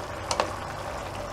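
Meat and vegetables for a veal stew being stirred in a pot, with a steady sizzling frying hiss throughout and a couple of brief louder scrapes near the start.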